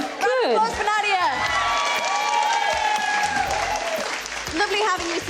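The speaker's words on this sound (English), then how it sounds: "Applause for Nadiya." A studio audience bursts into applause and cheering with a few whoops, loud and sustained, welcoming the baker Nadiya at a live food show, with voices calling out over the clapping.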